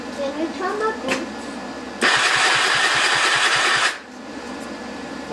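Suzuki LT80 quad engine, freshly rebuilt top end, cranks and fires into about two seconds of loud, rapid buzzing running before cutting out, with voices talking nearby before it starts.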